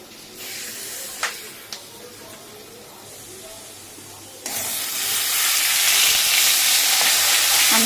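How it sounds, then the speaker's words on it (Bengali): Spice paste poured into hot oil bursts into a loud, sustained sizzle and hiss that swells halfway through and stays strong, preceded by quieter frying with a couple of utensil clinks. "যে মশলাটা মেখে রেখেছিলাম এটা এর মধ্যে ঢেলে দেবো"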